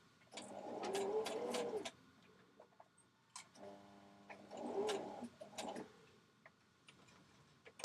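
A home sewing machine stitches a dress seam in two bursts, running steadily for about a second, pausing, then reversing to back stitch. The motor whirs with a clear rhythmic tick, close and moderately loud, with no talking.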